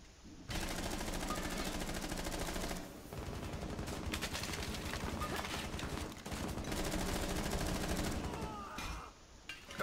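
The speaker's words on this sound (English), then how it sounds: "Are they shooting it through the window again?" Rapid automatic gunfire rattles through a Rainbow Six Siege team deathmatch on Bartlett U, dense bursts filling most of the stretch with short pauses between volleys.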